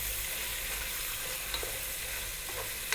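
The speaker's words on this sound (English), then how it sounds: "We're going to cook this for about 5 minutes, stirring, fairly often here now" Beef and butter fry in a pot over medium heat, giving a steady close sizzle with occasional soft scrapes and knocks from stirring, and no voices.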